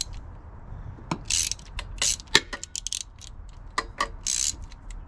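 A hose clamp being tightened on the fuel line of a 1986 Suzuki Samurai with a 1.6 VW turbo diesel: close, irregular metallic ratcheting clicks and tool scrapes come in short bursts.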